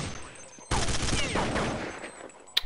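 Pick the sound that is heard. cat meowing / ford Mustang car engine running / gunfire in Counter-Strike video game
gunfire in Counter-Strike video game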